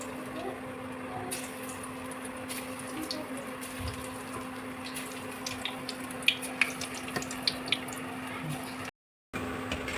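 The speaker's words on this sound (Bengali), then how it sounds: "দেখুন ঝনঝন করে আওয়াজ হচ্ছে, মানে হয়ে গিয়েছে" Chira (flattened rice) pakoras sizzle steadily in hot oil in a wok, a constant hissing fry broken by a few sharp pops, with a brief dropout near the end.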